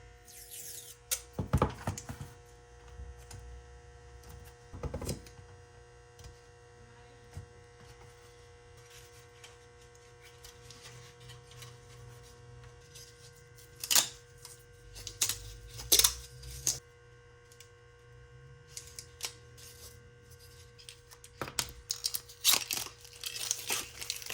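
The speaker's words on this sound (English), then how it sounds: "Shake up the can, get it ready, and then we'll be ready to shoot some paint." A spray paint can is shaken and sprayed onto a lowrider model car. Quiet, scattered rattles and clicks give way to short, sharp bursts of hissing spray against a faint steady hum.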